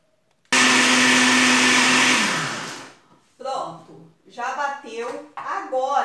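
A blender whirs loudly for about two seconds on guacamole ingredients, then winds down and stops, followed by someone speaking.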